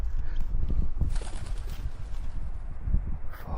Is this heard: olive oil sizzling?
no